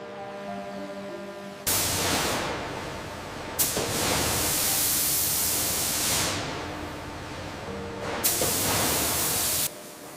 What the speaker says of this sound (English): Liquid glaze is sprayed evenly across the tile surface, forming a thin coating layer.